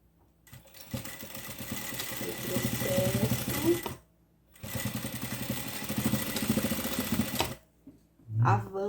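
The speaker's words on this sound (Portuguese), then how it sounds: "Avanço um pouco a costura" A sewing machine stitches fabric for a stuffed animal toy in two steady bursts of rapid mechanical chatter, separated by a short pause, heard close and fairly quiet.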